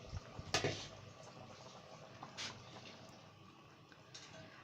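Lahori chickpea curry simmers in a covered pot, a faint, steady bubbling hiss with a few soft clicks and pops scattered through it.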